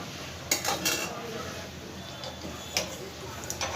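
A spoon stirs raw banana kofta curry in a metal pot, giving a few sharp clinks and scrapes over a low, steady background hiss.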